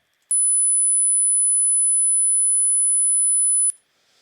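A steady 10000 Hz sine test tone from a signal generator sounds alone as one piercing, unbroken high whistle for about three and a half seconds, starting and stopping abruptly with a click at each end.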